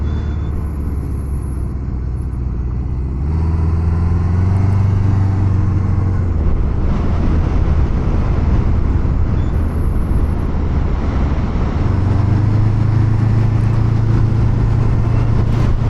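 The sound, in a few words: 1977 Honda Hondamatic four-cylinder motorcycle engine riding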